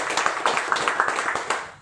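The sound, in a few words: audience applause welcoming a speaker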